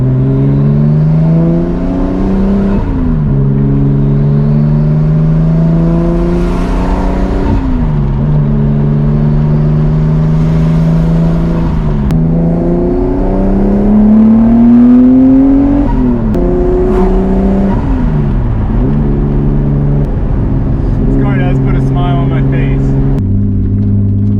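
A Subaru 2.5RS with a swapped-in WRX engine drives on the road, its engine droning and rising through repeated gear changes, close and loud throughout without any speech.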